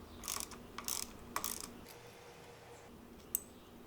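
Hex nut being loosened on the lever of a Yamaha FZ-07 motorcycle: a few quick metallic ratcheting clicks in short bursts, close and fairly quiet, then a single sharp click after a pause, with no talking.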